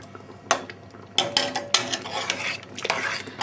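Metal spoons clink and scrape against a cooking pot of homemade spaghetti sauce, a few sharp knocks followed by steady stirring and rattling, close and fairly loud with no talking.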